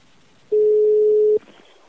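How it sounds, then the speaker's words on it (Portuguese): A single steady telephone tone sounds for under a second during a prank phone call, loud and clean against a quiet background, followed by a faint click. "Liga pra Rita."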